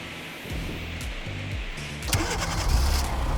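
A 2021-2025 Hyundai Elantra engine is started remotely with a MyKey Premium starter: a few rhythmic starter-motor cranks, then the engine catches and settles into a steady, louder idle, close by with no talk.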